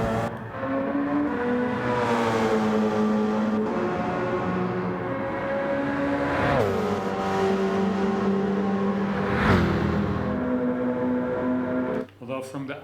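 A car engine in the Gran Turismo 7 racing game revs and pulls through the gears, each rising whine dropping sharply at a shift before climbing again, loud and continuous.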